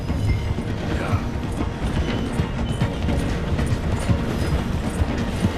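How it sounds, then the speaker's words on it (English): Train in the Red Dead Redemption 2 video game slowing as it runs through a station, a steady loud rumble of wheels and mechanical clatter, with no talk over it. "The train is slowing down to go through the station."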